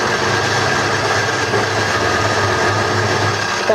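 Wood lathe running while a bowl is hollowed and a tenon is turned, a loud steady mechanical hum and drone with a faint rattle throughout, close with no talk.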